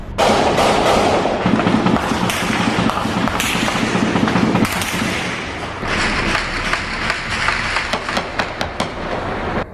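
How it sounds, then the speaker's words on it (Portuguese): Rapid bursts of gunshots from an attempted invasion of the São Carlos favela complex crack and pop repeatedly at moderate distance, with irregular volleys and echoing bangs throughout. "Os moradores foram pegos de surpresa pelos tiros quando voltavam para casa"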